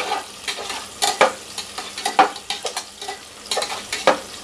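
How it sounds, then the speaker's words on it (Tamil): Onions sautéing in a pan for chicken biryani, cooked until golden: soft frying sizzle with repeated stirring scrapes and clinks in an irregular rhythm, close and moderate in level, no talking. "வெங்காயம் வந்து கொஞ்சம் பொன்னேறமாக வதங்கணும்"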